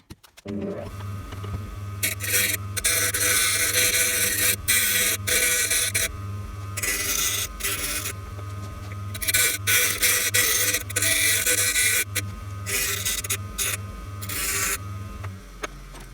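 Tank mounting points on a Honda CRF250L being trimmed with a power tool, a loud steady motor whine broken by bursts of harsh cutting and grinding that stop and restart several times.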